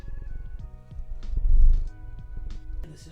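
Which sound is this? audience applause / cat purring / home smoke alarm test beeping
cat purring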